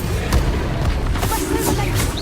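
Bombarda blasting spell going off in Hogwarts Legacy, a loud booming burst amid continuous game combat noise, with no voices.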